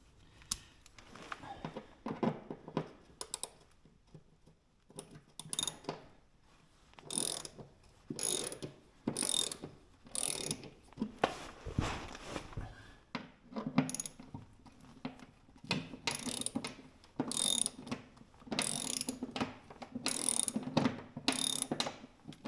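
A ratchet works Torx 27 bolts loose on a 2022 Ski-Doo Skandic panel, giving bursts of rapid clicking in an irregular rhythm with brief pauses between strokes, close and moderately loud.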